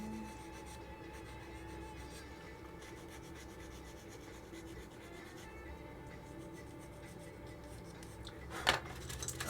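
Sanding a seam on a 1/25-scale AMT 2021 Ford Bronco plastic model kit, a quiet, steady scratchy rubbing that continues in small repeated strokes, ending with a sharper scrape.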